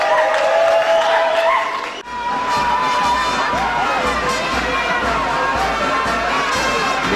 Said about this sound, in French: Les applaudissements nourris des militants et sympathisants témoignent du soutien qu'ils accordent aux candidats